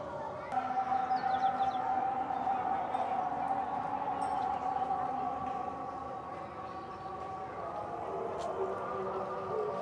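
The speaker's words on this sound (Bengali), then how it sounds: "মাগরিবের আজান হচ্ছে" The Maghrib call to prayer drifts across a lakeside resort park in Bogura at dusk as a distant amplified voice holding long, wavering melodic tones over a soft outdoor hum.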